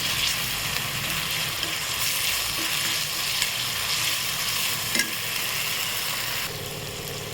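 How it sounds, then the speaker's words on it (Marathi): Goat leg soup ingredients sauté in a pan over low gas, a steady, even sizzle with faint scraping stirs and a couple of small clicks, close and alone without voices. "एक 5 मिनिट बारीक गॅसवर परतून घेत राहायचं। लाल रंग येऊ द्यायचं छान।"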